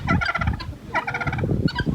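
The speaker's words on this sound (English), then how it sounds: "Now chickens and guineas are all over here." Loud, harsh bursts of poultry calling nearby, chickens and guinea fowl squawking in quick repeated rattling phrases.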